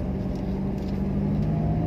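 BMW with an M40 engine pulling away after a U-turn, a loud, steady low engine drone with a faint hum running throughout.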